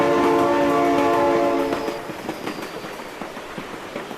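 A train passing with its horn, a loud blaring horn note at the start that cuts off and gives way to rumbling, clattering wheels, with no talking.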